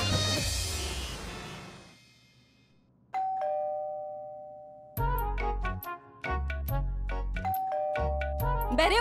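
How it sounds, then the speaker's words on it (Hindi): A doorbell chimes repeatedly in a house, ding-dong tones ringing out several times in succession after a loud noisy opening, clear and close with no talk. "कब से घंटी बज रही है"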